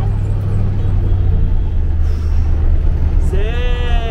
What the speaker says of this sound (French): Les voitures qui n'arrêtent pas de déboîter à droite à gauche entre les camions.